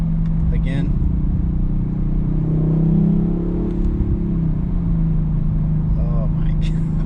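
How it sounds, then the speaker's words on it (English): An Audi RS5 engine blips and revs on a downshift, a steady low rumble swelling to a brief peak mid-clip and settling back, heard from inside the car under someone talking. "If you want to downshift, whew, there it is."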